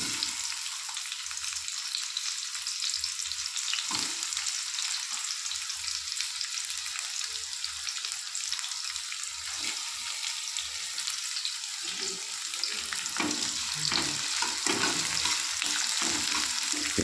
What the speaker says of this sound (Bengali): তেল হয়ে গেছে, এবার আমি পেঁয়াজটা ছেড়ে দেবো।